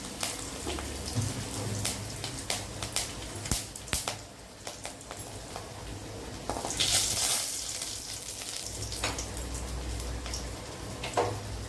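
Mustard seeds and two or three dried chillies crackle and sizzle in hot oil, with sharp pops and spatters over a steady frying hiss, close by and fairly loud.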